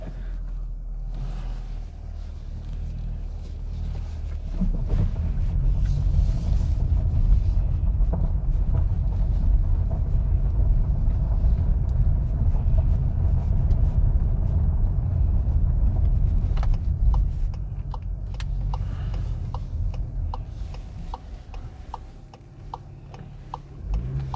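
Inside a 2020 SEAT Leon FR, a soft indicator ticking gives way to the car pulling away, with a low engine and road rumble building and holding steady before easing off as the ticking returns.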